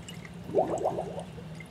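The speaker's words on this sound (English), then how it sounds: "once that's backed on, it should actually start the siphon as well. So you can see here the water's starting to flow." Water gurgles and trickles briefly through a bell siphon in a basement aquaponics system, a short, soft burst of bubbling flow up close against a quiet background.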